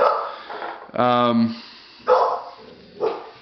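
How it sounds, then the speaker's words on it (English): Dogs bark outdoors near a shooting range, a few loud barks spaced about a second apart, close and sharp, with one bark drawn out and harmonic. "Those dogs are going to ruin this for me,"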